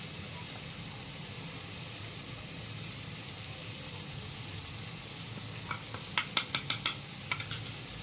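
Malvani masala and turmeric sauté in a pan under a steady, soft sizzle, and near the end a quick series of sharp clinks comes from a spatula tapping the pan.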